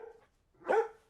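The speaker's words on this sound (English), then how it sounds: "Bark." A single dog gives one short, close bark on command after a moment of quiet, preceded by a brief trailing voice.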